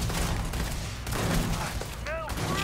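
Heavy gunfire in the video game Starfield rumbles loudly and continuously as overlapping shots blend into a dense barrage, with a brief rising tonal effect near the end.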